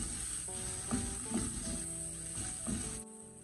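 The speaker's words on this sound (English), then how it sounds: "saute well. and add chopped onion." Chopped onion with cumin seeds and ginger garlic paste sautéing in oil, a steady close sizzle with stirring scrapes and clinks throughout, ending abruptly.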